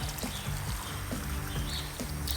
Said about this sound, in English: Fill my water bottle up in the morning